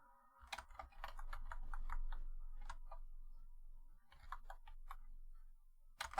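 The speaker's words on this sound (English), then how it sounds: "Deep contemplation over the sound of a mechanical keyboard" Keys clatter on a mechanical keyboard in a series of crisp, close clicks, typed in quick bursts with brief pauses between them.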